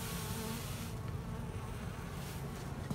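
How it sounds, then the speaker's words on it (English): Dense, steady buzzing of many bees close by covering a shed floor on a cold winter morning, a continuous droning hum with no voices. "Completely covered with bees."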